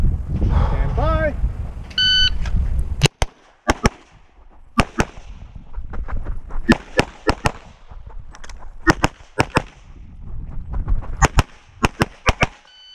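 Handgun fire on a USPSA competition stage at the Handgun Nationals: after brief talk and a start beep, a rapid series of sharp, loud shots comes in quick bursts with short pauses between them.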